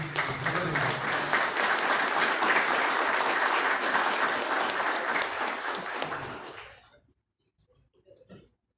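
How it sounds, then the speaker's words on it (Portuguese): Strong applause for honorees at a formal municipal council ceremony awarding honorary citizenship, a thick, sustained roar of clapping that stays loud for about six seconds, then tapers off into near silence with a few faint sounds. "Eu só gostaria de pedir uma salva de palmas bem forte para esses homenageados que eles merecem."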